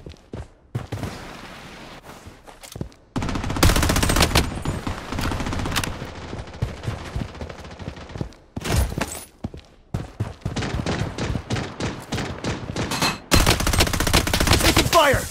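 Dense, loud bursts of automatic gunfire and single shots in the Blood Strike video game during a ranked match, with rapid firing runs broken by short pauses, close and heavy throughout.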